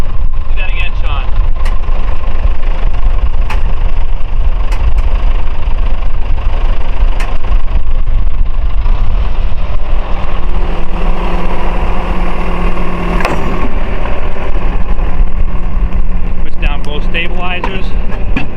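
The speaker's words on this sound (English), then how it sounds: "Another diesel engine in this one." A backhoe's diesel engine runs with a loud, steady low rumble while the machine moves logs, with occasional clanks and hydraulic whine over the drone.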